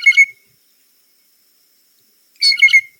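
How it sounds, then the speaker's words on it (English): A blue jay gives two short bubbly, gurgling calls, one at the start and another after a pause of about two seconds, fairly close and alone. "Then you also have something that's very similar to like bubbles or like a gurgling sound."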